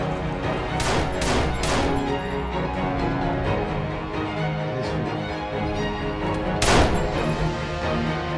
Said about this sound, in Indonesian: Daniel mampu meraih pistolnya sebelum menembaki pemimpin Blackmask.